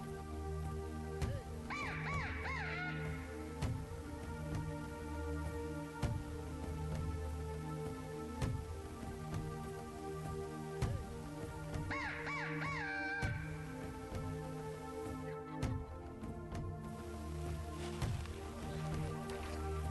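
Outdoors, a crow gives two short bursts of cawing, one early and one midway, each a quick run of harsh calls. They carry at moderate distance over a steady background hiss like light rain.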